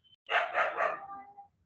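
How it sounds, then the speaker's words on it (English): A dog barks in the background, a quick burst of three or four muffled barks that trails off, with no talking. "Dog barking."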